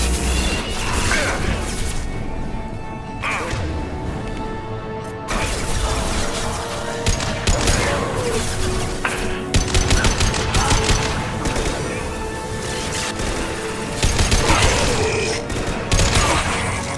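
Gunfire in Mass Effect 2 combat, dense continuous automatic fire with crashing impacts and whooshes layered over a busy game soundtrack, loud throughout with repeated bursts.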